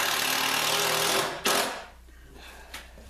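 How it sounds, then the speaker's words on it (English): A power drill pre-drills screw holes in a cedar plank canoe, giving a steady buzzing motor whir that stops abruptly, followed by a short louder burst and then quieter workshop noise. "I'm just going to pre-drill the holes."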